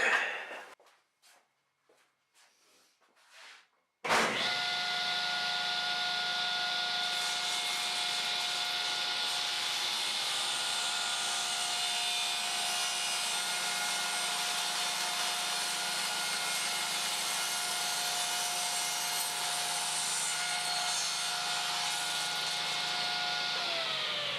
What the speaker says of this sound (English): Back to the table saw to do it again.